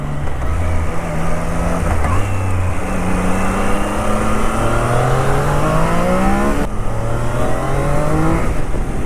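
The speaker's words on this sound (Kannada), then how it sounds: "660cc ಇಂಜಿನ್ ಆದ್ರೂ ಸಖತ್ತಾಗಿ ಹೋಗ್ತಿದೆ" A Triumph Daytona 660cc motorcycle engine cruises slowly in fourth gear on a night ride, a steady close drone that rises and falls in pitch as the throttle changes, with continuous wind rush and no talking.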